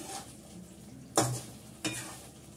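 Fish curry stirred gently in a pan as it bubbles, a soft simmering sizzle broken by two sharp scrapes and clinks of a spoon against the pan, close and without talk.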